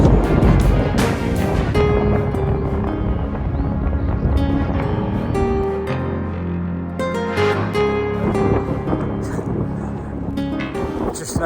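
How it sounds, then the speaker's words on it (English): Breezy wind rumbles and buffets against the microphone throughout on the South West Coast Path near Egmont Point, mixed with muffled background sounds. "The wind noise gets a little bit more."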